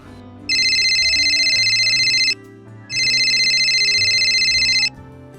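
A telephone rings in two long electronic bursts separated by a short pause, loud and close, over soft background music.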